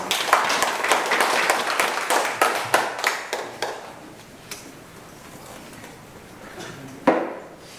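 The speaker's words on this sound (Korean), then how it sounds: "우리 장병호 목사님을 뜨거운 박수로 환영하겠습니다." Audience applause at a Korean church book-launch celebration, welcoming a pastor to the front: a dense burst of clapping that thins into scattered claps and fades, with one last sharp clap near the end.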